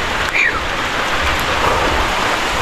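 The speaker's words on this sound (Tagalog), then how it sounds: "lakas na yung ulan." Heavy rain pouring during a typhoon in the Philippines, a loud dense steady hiss close by with no voices.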